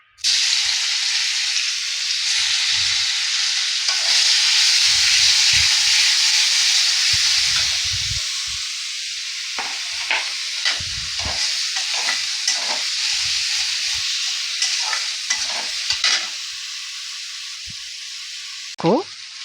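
Onion, cumin, ginger paste and tomato fry loudly in hot oil for a Bengali potato and pointed gourd curry, a constant close sizzle broken by repeated scraping stirs, with a brief louder clatter near the end.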